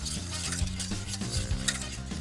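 A spoon stirs tempered soup dressing into cold water in a pot for a grandmother's soup, giving a close, continuous swishing with light scrapes and clinks against the pot.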